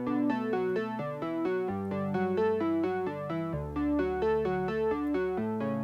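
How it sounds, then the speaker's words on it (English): An unprocessed synth arpeggiator, heard before delay and reverb, plays rapid, evenly spaced repeating notes over a low sustained bass that changes pitch twice, dry, bright and steady throughout. "So it's just kind of like an ARP, and I just put delay, reverb, and then filtered it."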